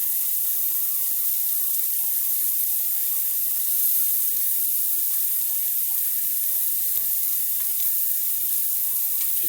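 Tap water running steadily into a sink while hands and utensils are washed in a kitchen, a loud continuous hiss and splash close by with no break.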